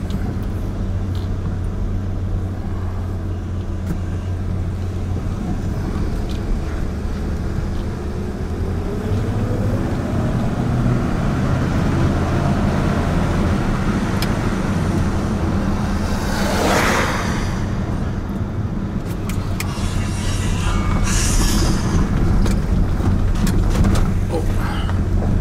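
An old junkyard Ford Bullnose truck with a sticky throttle body drives around a corner on a pothole-rough road, its engine a steady, close drone throughout while a voice talks briefly over it.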